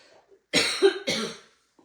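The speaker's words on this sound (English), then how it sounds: "I have a cough drop, but I'm still coughing" A woman coughs twice in quick succession, close and fairly loud, with short harsh bursts and near silence before and after.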